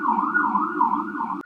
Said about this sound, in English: Let's step into this Virgo energy as the sirens start.